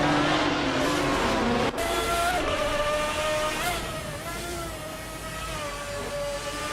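Race cars roaring off the start at Horseman Raceway Club, a 2010 Maytag Ford GT G1 on pole, loud sustained engine drone with rising whining harmonics as the field accelerates away, no talk.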